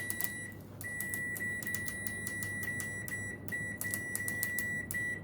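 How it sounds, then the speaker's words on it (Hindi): A Haier front-load washing machine sounds a series of short electronic beeps, fairly close and clear, some single and some in quick clusters, over a low mechanical hum. "आपका बीप साउंड ऑन है"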